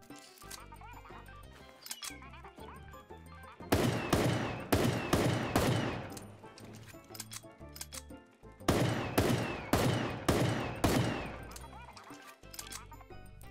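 Deagle pistol shots from the game Super Animal Royale, two loud clusters of sharp, rapid reports fired in quick bursts over a background of game music and sound effects.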